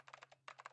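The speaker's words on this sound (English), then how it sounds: "You're typing so fast, I can't even see your fingers." Rapid keyboard typing from the video game Zero Escape: Nine Persons, Nine Hours, Nine Doors, quiet clustered clicks in two quick bursts separated by a brief pause.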